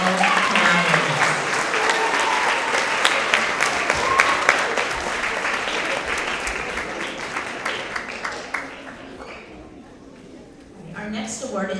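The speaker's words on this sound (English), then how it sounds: "Let's have another round of applause for all our skilled collaborators." Students, staff and families at a 6th-to-8th-grade school award assembly give a round of applause, with full, steady clapping and some voices mixed in before it thins out and tapers off near the end.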